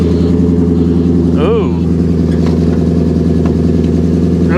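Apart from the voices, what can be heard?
car exhaust sound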